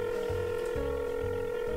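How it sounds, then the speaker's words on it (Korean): A telephone gives a steady electronic tone broken by short rhythmic pulses, like a call being dialed or connecting, faint and alone with no voices. "6학년한테 전화해야지."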